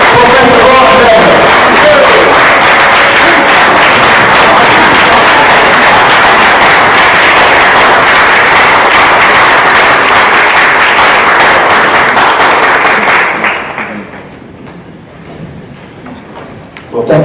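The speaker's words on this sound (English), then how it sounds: "Give him a round of applause" A large convention crowd gives a loud, sustained round of applause with some cheering that lasts about thirteen seconds, then drops off sharply into quieter room noise.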